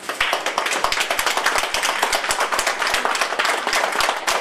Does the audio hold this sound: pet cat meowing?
no